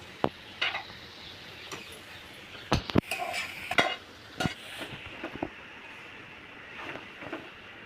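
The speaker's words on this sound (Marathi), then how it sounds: "आता त्यामध्ये ही जे भेंडी परतून घेतली तेलामध्ये ते ह्यामध्ये घालायचे" Fried okra is stirred into masala in a pan, with scraping and knocking strokes of a spoon at an irregular rhythm over a soft sizzle, fairly quiet and close, with no talk.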